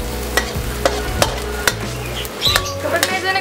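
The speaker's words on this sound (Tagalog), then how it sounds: "Then, ilagay na natin ang onion." Onions frying in a pan for pancit lomi, a steady close sizzle broken by sharp scrapes of a spatula against the pan at regular intervals, with a louder burst of scraping and stirring near the end.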